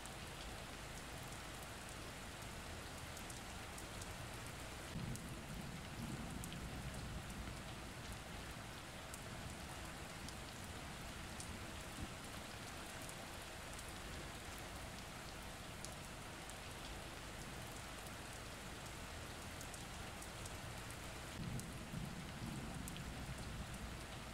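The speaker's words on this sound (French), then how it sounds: "Les bruits de la pluie vous rappellent à quel point vous êtes confortable dans votre lit" Steady rain falls on a surface in a dense, even wash, with soft distant rumbles of thunder rolling in a couple of times, calm and continuous with no voices.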